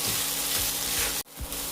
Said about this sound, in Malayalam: അരി ഒന്ന് വറുത്തെടുക്കണം അതായത് ഒന്ന് പൊട്ടി വരണം